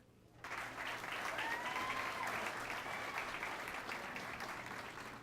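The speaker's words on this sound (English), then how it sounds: "Let's give the principal a round of applause." A school audience at an elementary school's 35th anniversary celebration breaks into applause for the principal, a dense, steady wash of clapping that starts suddenly and carries on evenly throughout.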